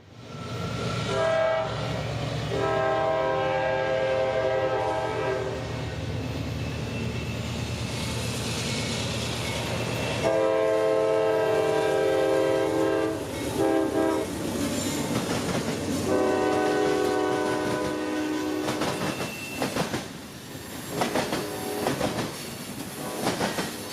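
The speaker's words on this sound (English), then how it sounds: "a pretty special train arrived" A Tampa to Waycross freight train, Q442, rolls through Plant City, Florida, sounding several long loud horn blasts over heavy rumble and clattering wheels as it passes close by.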